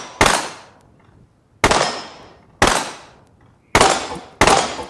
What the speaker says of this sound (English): we have to shoot the top portion of the popper in order for the gravity to take it down